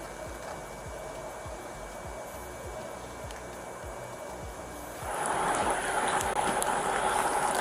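Rain falls outdoors as a steady broadband wash that grows heavier and louder partway through, with faint rhythmic thumps underneath.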